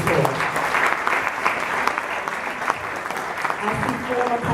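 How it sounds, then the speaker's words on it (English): Sustained applause from a crowd at an evening political gathering of Democrats honoring a county leader, steady dense clapping filling the room from start to finish. "Please give him a round of applause."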